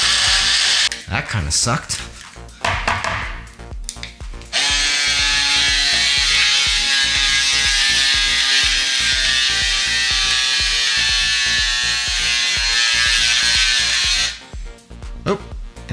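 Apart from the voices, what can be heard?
BlendJet 2 portable blender running, blending soft serve consistency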